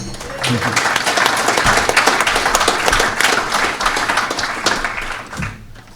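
A crowd at a Gloucester Rugby fans forum claps loudly and continuously for about five seconds, a dense burst of applause that tapers off at the end.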